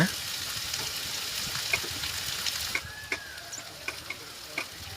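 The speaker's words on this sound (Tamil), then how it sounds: "சுண்டலை நல்லா கிளறி விட்டுடலாங்க" Chickpea sundal stirred in oil in a pan with grated coconut, a steady sizzle and frying hiss running throughout, broken by light, irregular scraping taps of the spoon against the pan.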